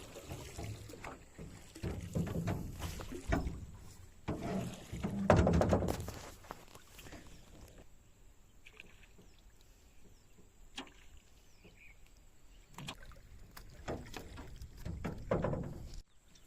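Oars working a small rowboat during net fishing, heard as intermittent splashing and knocking strokes with short quiet gaps, fairly close and moderate in level, with no talk.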